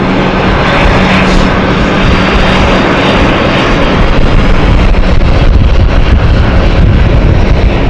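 A jet airliner on a flight from Berlin approaches London City Airport, a loud, continuous broadband roar buffeted by wind noise on the microphone.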